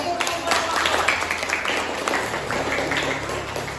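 Students in a classroom applaud after group presentations, dense continuous clapping filling the room for a few seconds, with some voices mixed in.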